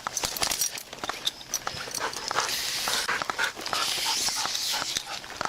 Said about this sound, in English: Casey, I'm gonna put the dog up for now.